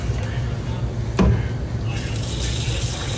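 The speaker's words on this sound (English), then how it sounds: "You put all your root vegetables first, and we're gonna add water." Water is poured into a pot over root vegetables to make caldo de pollo stock, giving a steady watery rush with a brief clunk near the middle over a busy kitchen background.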